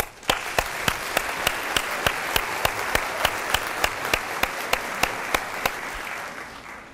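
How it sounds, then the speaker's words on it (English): A seminar audience gives a round of applause, dense clapping with one nearby pair of hands beating a sharp, even rhythm before the applause fades out. "give yourselves all a round of applause."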